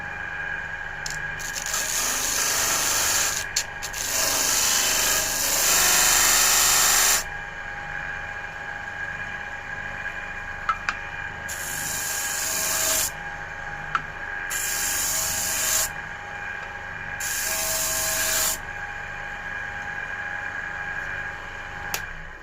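Power sander working the edges of a wooden phone dock, running in several loud bursts of whirring, rubbing noise with short pauses between them.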